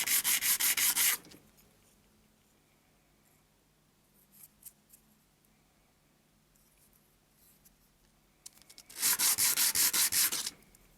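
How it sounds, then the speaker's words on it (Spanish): A printed circuit board handle is rubbed with very coarse sandpaper in two short bursts of rapid, gritty back-and-forth strokes at the start and end, with quiet handling noises between them. "Ahora voy repasando con una lija de grano muy grueso para dar un poco más la forma que quiero."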